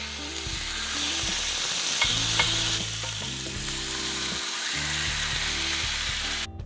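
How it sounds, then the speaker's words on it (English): Large turkey thighs sear skin side down in hot olive oil in a pan, a loud continuous sizzle and crackle that stays steady throughout, with faint clatter and no talk. "I grab one of these massive thighs and place it in the pan. And I'm gonna do it skin side down."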